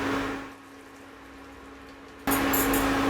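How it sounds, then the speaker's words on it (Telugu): Hot water drained off freshly boiled carrots, a soft pouring hiss that drops low, then a sudden louder rush of splashing water near the end, with no voices. "ఉడకపెట్టిన తర్వాత నీళ్ళు వార్చుకొని పక్కన పెట్టుకోవాలి."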